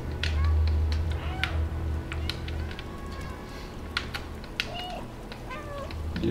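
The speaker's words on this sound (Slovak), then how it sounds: "Robím mňau mňau." A cat meows in the video game Stray, a few short calls standing out over a continuous game soundtrack and ambient background, with faint clicks and bird-like chirps scattered through.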